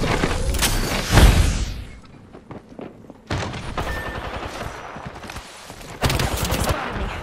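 Rapid bursts of gunfire in an Apex Legends 1v3 match, heavy volleys up front, then sporadic shots and a second loud barrage near the end, with thumps mixed in.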